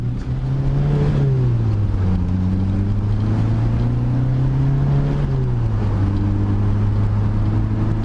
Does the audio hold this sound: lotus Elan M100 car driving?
yes